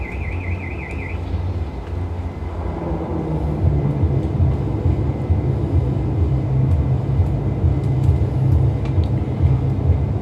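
A Majestic Dash-8 turboprop touching down on the runway in a flight simulator, a steady engine drone and rumble that swells after the first couple of seconds, with a brief warbling tone at the start.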